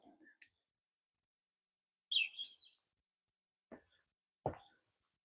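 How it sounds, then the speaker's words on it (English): A thrush sounds a brief whistled note, followed by a few soft clicks and chips spaced apart in otherwise quiet coastal rainforest at Cape Falcon, Oregon. "New bird sound just dropped. This is a thrush."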